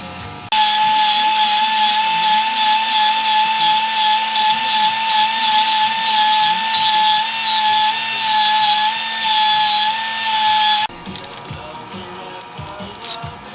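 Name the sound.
grinder cutting off a valve cover tab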